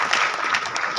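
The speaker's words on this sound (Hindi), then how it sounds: "चलो प्रोफेसर साहब के लिए तो ताली बजा दो" A crowd applauds a professor at a talk, dense, loud and continuous clapping that fills the whole moment with no speech over it.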